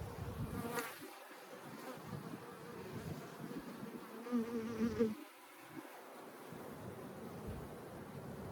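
Honeybees hum and buzz close by during an inspection of a Layens hive, a continuous faint drone with wind-like rustle and a few soft knocks.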